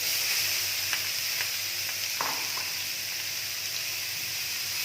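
Grated cauliflower sizzles steadily in hot oil with crackled cumin and green chili, a constant close frying hiss with a few soft stirring clicks.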